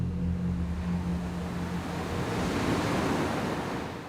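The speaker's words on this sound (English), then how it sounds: "But the strong winds get stronger and the big waves get bigger." Rough night at sea aboard a small boat, with big waves and strengthening wind: a continuous loud roar of surf and wind buffeting, with low rumbling undertones throughout, no talking.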